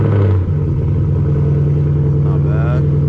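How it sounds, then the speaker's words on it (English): A Ford Mustang GT V8 idles with a loud, steady low rumble just after a cold start, the deep drone holding close and even throughout. "let's get it with a little cold start right now"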